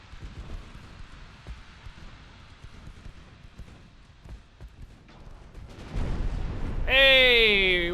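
A 12-inch naval shell striking a warship in Ultimate Admiral: Dreadnoughts, a deep rumbling impact swelling under ongoing battle noise and a voice, followed by a high warbling alert tone.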